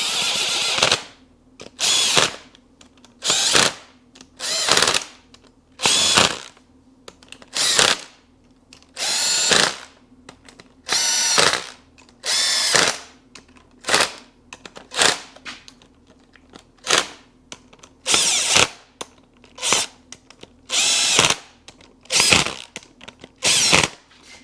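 Power drill driving screws into a Seadoo 4tec 185 engine during a rebuild, about twenty short bursts in a steady rhythm, each a loud whirring spin separated by quiet pauses.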